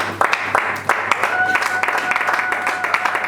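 A church congregation claps and cheers to acclaim the Lord, with a dense, steady patter of many hands that fills the room, close and loud, while a sustained musical tone and voices run beneath.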